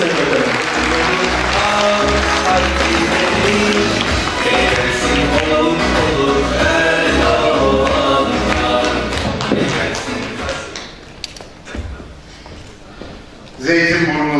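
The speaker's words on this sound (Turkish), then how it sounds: "şimdi de konuşmalarını yapmak üzere Sanayi ve Teknoloji Bakanımız Sayın Mustafa Varank'ı alkışlarınızla kürsüye hazırlıyorum." A large crowd at a political candidate's introduction night applauds as the Minister of Industry and Technology is welcomed to the podium; loud, dense clapping blends with crowd noise and tonal sound, then thins out toward the end.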